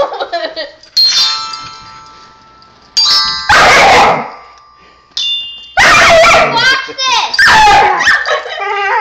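Bells ringing in a home, several bright chiming tones in separate bursts, mixed with a dog's barks and whimpers and loud talk, all close and prominent.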